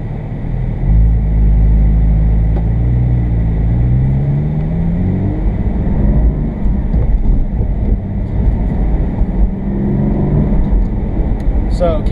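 A manual 2020 Porsche Cayman GT4 drives along, its engine a deep steady rumble that rises and falls in pitch as it accelerates and shifts, heard from inside the cabin.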